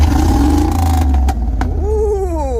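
Car engine with its muffler present but tailpipes cut off, revving loud and close with a deep, rough exhaust note that rises and falls between throttle stabs.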